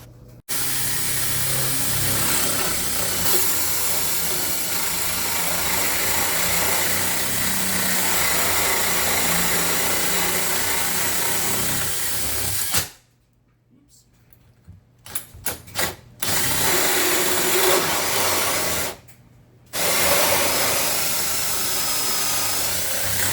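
A power tool cuts a big hole in a wooden door with a loud, continuous whining grind that stops and restarts in short bursts near the end.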